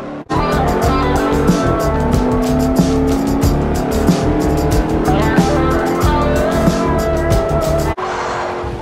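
Mercedes-Benz SLR McLaren in Forza Motorsport 4, its engine roaring loud and steady as it races, with rising and falling revs and tire noise, and someone commentating over the engine.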